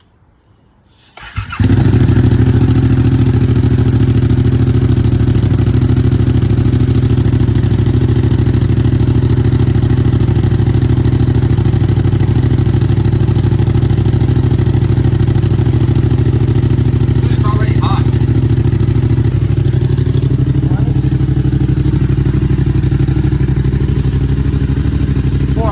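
Yamaha MT-07 motorcycle fitted with an aftermarket exhaust starts after a brief silence, then idles steadily with a loud, deep, continuous rumble for the rest of the clip, a few faint clatters and a slight shift in pitch near the end.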